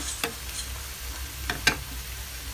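Spinach, chicken breast and tofu stirred in a frying pan, a low sizzle running throughout with a few sharp scraping strokes of the utensil, close and alone.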